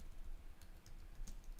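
Light keystrokes on a computer keyboard, a few quick taps spaced over a steady background hum, no voices.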